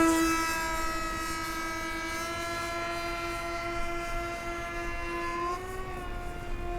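An electric ducted fan in a Flite Test Viggen RC model jet with poor throttle response gives a steady, high-pitched tonal whine. The whine holds fairly level, then shifts in pitch near the end as the jet passes, with no voices.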